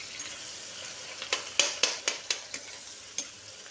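Two medium-sized chopped onions sizzle softly in a pan while a spatula scrapes and stirs in a run of quick, sharp clatters, about half a dozen strokes close by, with no talking.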